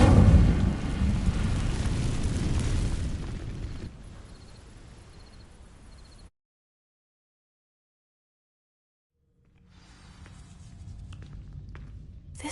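The Incendio fire spell in a Harry Potter video game erupts at once in a loud, roaring burst that fades over several seconds, cuts to silence, then gives way to quiet game ambience.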